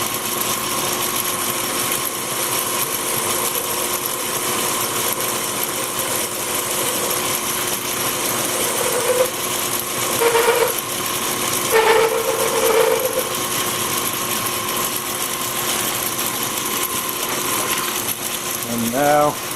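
A 60° bevel is cut on the edge of metal during a tap wrench build, a continuous grinding rasp with a few brief ringing metallic chirps partway through.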